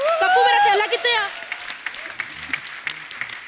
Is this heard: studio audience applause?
yes